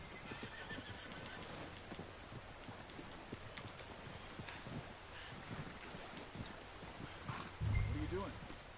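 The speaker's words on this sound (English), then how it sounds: "Come on, horsey." A horse in Red Dead Redemption 2 gives a short whinny near the end, amid outdoor game ambience, wind and scattered hoof clatter, with someone talking quietly over the scene.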